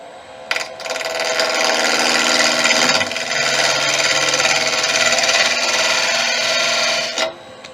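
Woodturning tool cutting a square shoulder into spinning wood on a lathe, a steady loud rasping scrape that starts abruptly, holds for about six and a half seconds, then stops, with no talk.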